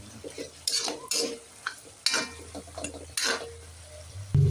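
Chicken liver and gizzards are stirred in a hot pan, producing intermittent bursts of sizzling and scraping spoon strokes at a moderate, irregular pace, fairly quiet and close.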